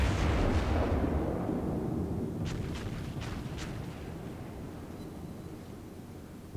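Big naval guns of the USS South Carolina fire in World of Warships: one loud, deep boom opens and rolls away slowly, followed by a few faint, sharp cracks in the distance.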